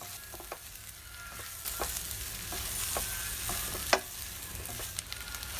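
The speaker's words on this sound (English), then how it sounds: "Add the eggplant and stir all together." Eggplant stir-fried in a pan with fried tofu, garlic and chili, a steady close sizzle broken by repeated scraping stirs of the spatula, no voices.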